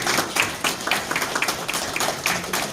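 Applause at an art exhibition opening in a gallery, a modest group clapping briskly with distinct individual hand claps, close and fairly steady.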